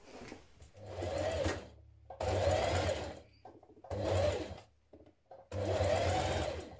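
Sewing machine stitching a 1 centimetre dress seam, running in four close, even bursts of rapid motor hum and needle chatter separated by short quiet pauses.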